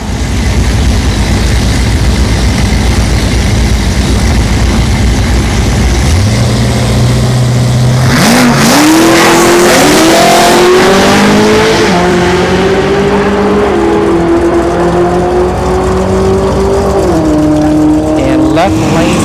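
Unlimited blower class drag race cars roaring at an Orlando Speed World drag racing event, engines loud and continuous as they rev up and launch down the strip with rising pitch, under a commentator's voice.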